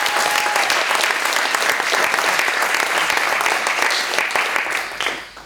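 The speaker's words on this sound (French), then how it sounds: "Sous vos applaudissements." A French comedy stage show's audience breaks into sustained, dense applause, steady and loud throughout before tapering off at the very end.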